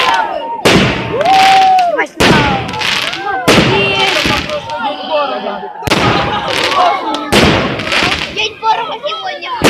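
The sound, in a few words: fireworks and firecrackers at a summer camp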